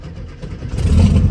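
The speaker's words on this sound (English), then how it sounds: "They kind of spin it over 3 or 4 times and then they push the gas down." Air-cooled VW Beetle engine cranking over and catching, low engine rumble building and then swelling louder as the gas is pressed, all in one short, close burst.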